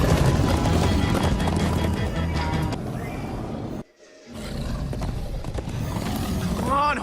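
Horses gallop in the Minecraft Story Mode video game, a steady rumbling clatter of hooves under game music and roaring effects that cuts out briefly and then returns, with characters talking and shouting over it.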